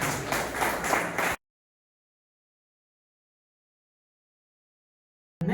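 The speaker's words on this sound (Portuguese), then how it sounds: "que as palmas louvam o Senhor" A church congregation clapping in praise during a family worship service, a dense burst of many hands that cuts off abruptly into silence, then resumes briefly at the very end.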